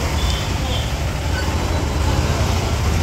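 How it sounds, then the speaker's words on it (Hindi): Busy market street traffic in Bhusawal gives a dense, steady roar of engines and road noise with a few faint horn-like tones, close and continuous throughout. "और ट्रैफिक भी है। आप समझ सकते हैं कि बाजार में किस तरह की ट्रैफिक होती है"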